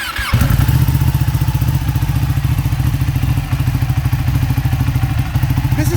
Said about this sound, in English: Let's start them up. Give them a start so you can hear how they sound.